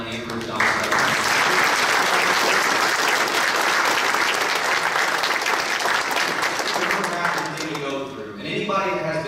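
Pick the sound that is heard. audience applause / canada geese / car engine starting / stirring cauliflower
audience applause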